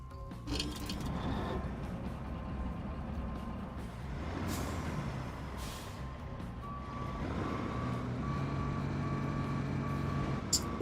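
Truck reversing beeps from a big work truck in the construction game RoadCraft, a steady series of evenly spaced electronic tones entering partway through over a constant diesel engine rumble, with air-brake hisses along the way.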